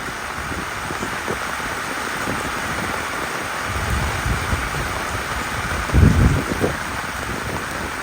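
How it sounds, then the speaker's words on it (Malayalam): Heavy rain pours down steadily and loudly in a continuous broadband wash, swelling with low rumbling gusts around the sixth second, with no voices. "കൊടും മഴയാണ് ഗായ്സ്, കൊടും മഴ."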